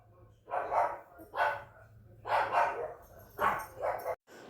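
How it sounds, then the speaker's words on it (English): A dog barks in four separate bursts, fairly close, with a low hum underneath and no talking. "My dog was being a little dick."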